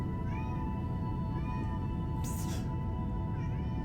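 A house cat meows loudly and insistently, several drawn-out cries spaced across a few seconds over a steady low background hum, with a voice talking nearby.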